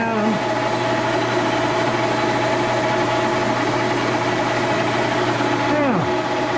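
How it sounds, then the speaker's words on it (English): Old tool and cutter grinder spindle running at 1200 RPM, a steady close machine hum with constant tonal whine and light vibration, then a falling pitch sweep near the end as it slows, with no talk over it. "Now that's trucking for an old machine, 1200 RPM."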